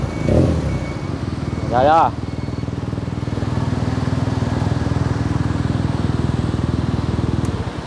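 A BMW R nineT 100 Year Edition boxer engine idles at about 1,200–1,300 rpm through an Akrapovic exhaust, a steady low rumbling pulse close by, with a brief rev blip near the start and a short spoken remark.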